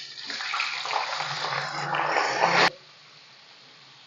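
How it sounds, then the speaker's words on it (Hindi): Chicken pieces added to a hot pan for frying, making a loud, steady hiss and sizzle with spattering that runs for about two and a half seconds, then drops off abruptly. "ये मैंने चिकन डाल दिया"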